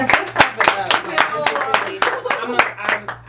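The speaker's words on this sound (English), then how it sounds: "let's clap it up" Several people clap in a sharp, uneven burst of separate loud claps, close by, with a steady hum underneath and voices mixed in.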